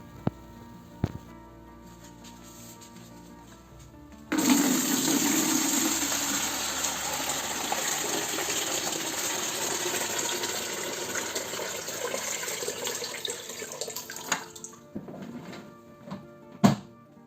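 Water from a full 5.5-litre Aircond A-26 dehumidifier tank pours out in a steady, splashing gush for about ten seconds after a few faint handling clicks, then stops with a couple of bumps.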